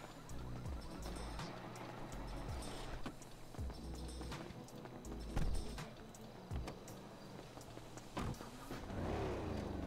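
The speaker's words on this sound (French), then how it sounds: "Oh beau bruit par contre hein. Ah, j'adore. Oh, j'adore le bruit. Ah bah c'est un gros V8 là-dedans." A V8 car engine in a video game roleplay hums and revs steadily throughout, with a few louder surges, up close with no talk over it.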